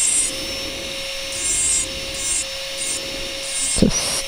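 A rotary engraver fitted with a White Arkansas stone burr grinds a glass paperweight, a steady high motor whine with soft rubbing surges and a brief knock near the end.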